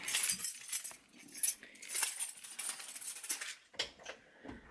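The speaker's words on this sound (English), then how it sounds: "keys." Keys jingle and clink in quiet, irregular bursts close to the mic, with small metallic chinks and rattles as they are handled before heading out for coffee.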